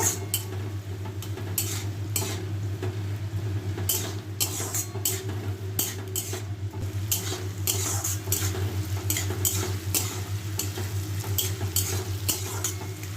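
Paneer and onion cooking in a pan are stirred with a utensil, giving steady frying sizzle under frequent scraping and clinking strokes against the pan, close and continuous with no talk.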